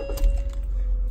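Car keys jangle briefly up close over a low, steady engine-like rumble and a faint tonal hum at a car meet.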